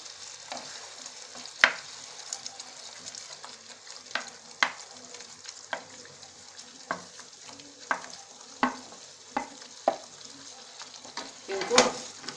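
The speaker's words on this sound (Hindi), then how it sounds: "इनको मिक्स कर लेंगे और इनको हम 10 से 12 मिनट के लिए लो फ्लेम पे पकने देंगे" Fried mixed vegetables are stirred into a simmering gravy in a pan, a low bubbling sizzle punctuated by a dozen sharp spoon scrapes and clanks spaced irregularly.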